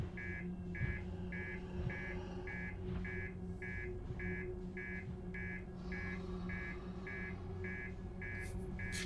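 Car alarm in the video game Outer Wilds, a regular pulsing beep repeating about every third of a second, steady and moderately loud over a low background hum, with no one speaking.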